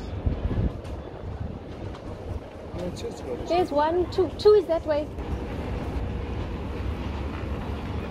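Subway-like train running through a large station in Madrid, Spain, with a continuous rumble and a stretch of high, wavering wheel squeal in the middle, while people talk over it nearby.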